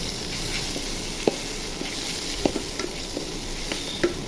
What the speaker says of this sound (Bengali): দিয়ে কিছুক্ষণ নেড়ে চেড়ে নিব।